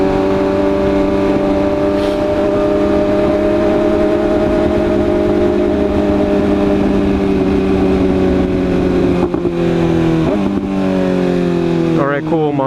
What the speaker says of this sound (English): We got a Lotus. Let me see if I can catch it. He's gonna gun it now, watch.